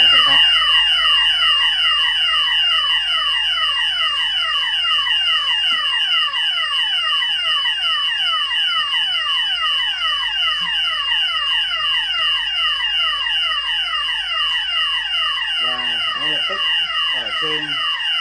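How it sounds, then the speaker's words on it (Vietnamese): A karaoke system's fire alarm bell sounds during a fire cut-off test, a loud, continuous, rapidly repeating sweeping electronic tone that fills the room, with brief voices near the end. "Chuông đèn sẽ kêu và ánh sáng sẽ tắt."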